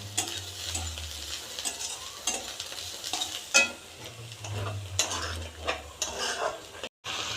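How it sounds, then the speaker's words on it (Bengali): Fried potatoes and carrots are stirred in a pan, with a steady sizzle under scraping, clattering strokes that come in uneven bursts, close and fairly loud, and a brief silent gap near the end. "আলু গাজর ভাজা হয়ে গেছে এটা আবার নাড়িয়ে নেবো"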